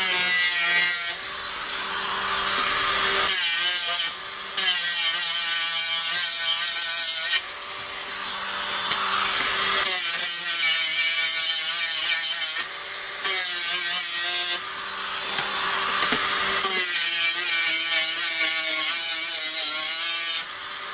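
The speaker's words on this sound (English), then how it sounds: "I got this wire sanding wheel, and I'm doing the edges, the contacting edges." A wire sanding wheel buzzes against the contact edges of an arcade game circuit board, a Bally Midway Robby Roto PCB, in repeated loud grinding passes separated by short pauses.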